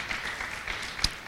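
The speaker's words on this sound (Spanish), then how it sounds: "Dele un aplauso al Señor de gratitud por haberlo alcanzado" A church congregation claps together in steady, dense applause, a continuous patter of many hands at moderate loudness with a few sharper claps standing out.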